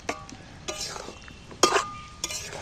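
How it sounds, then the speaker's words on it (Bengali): Fried potato pieces being stirred into a thick curry masala in a pan for a jackfruit curry, with a few separate scraping clinks and spoon-on-metal strokes alongside a faint sizzle. "আলুগুলো আমি এর সাথে আরেকবার নেড়ে চেড়ে নিচ্ছি ভাজা আলুগুলো"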